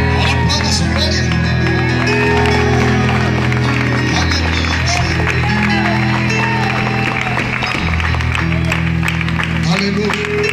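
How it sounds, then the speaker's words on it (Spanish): Church congregation clapping and cheering during a sermon, loud and sustained under heavy music and shouted voices, with clapping woven through a constant noisy wall of sound. "Aplauda su gloria."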